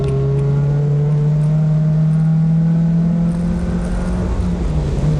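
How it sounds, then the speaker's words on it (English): An Ecotec-swapped Mazda Miata accelerates hard on a race track, its engine drone loud and steady as the pitch climbs smoothly through the gears, heard from inside the car with no talking. "I try to get up to pace quickly and showcase the Ecotec Miata's astonishing power and handling"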